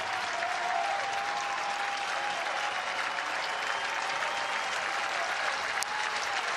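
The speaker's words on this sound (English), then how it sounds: "The crowd in full support of Gavin Blackowitz on the mound." A baseball crowd at a Nebraska versus Arizona State game applauds steadily and loudly throughout, a dense wash of clapping and cheering in support of the pitcher on the mound.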